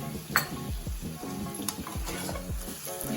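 Red chili powder is stirred into spices frying in oil in a pan, a spoon scraping and clinking against the metal in a steady rhythm over a continuous close sizzle, with no talk.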